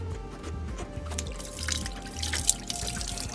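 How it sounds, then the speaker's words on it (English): Coolant drips and trickles from a removed radiator on a Nissan Titan or Armada truck, irregular close liquid drops falling over a low steady hum, with a few sharper splashes. "Alright, it's still dripping, as you can see."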